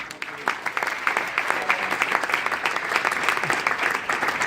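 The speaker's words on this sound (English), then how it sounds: "Let's give Ariane a big round of applause." A large audience breaks into a big round of applause, dense continuous clapping held at an even, fairly loud level throughout.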